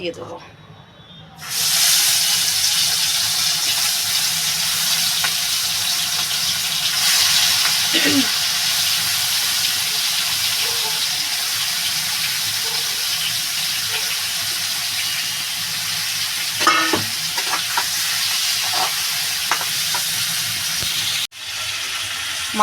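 Prawns (chingri) frying in hot oil for malai curry, a loud, steady broadband sizzle that starts abruptly after a quiet second and continues throughout, with occasional utensil clinks and a brief dip near the end.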